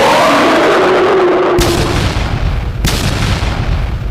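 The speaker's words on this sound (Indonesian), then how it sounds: "Suara teriakan bercampur dentuman terdengar di kejauhan" Heavy booming explosions rumble over a continuous roar, with two sharp deep blasts landing a second or so apart.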